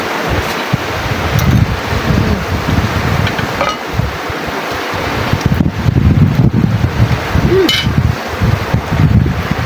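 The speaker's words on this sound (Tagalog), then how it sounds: "Hindi pa nawawalang amihan mga ka-sisters." Amihan, the northeast monsoon wind in March, buffets the microphone with a steady low rumble and rushing, with stronger gusts swelling midway and near the end. No voices are heard.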